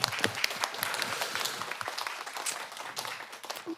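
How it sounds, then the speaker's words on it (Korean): Audience applause at a choir forum concert, a crowd clapping with scattered sharp individual claps standing out, steady and fairly close for a few seconds without talk. "뭐 다들 큰 박수로 이 응원에 화답했으면 좋겠습니다."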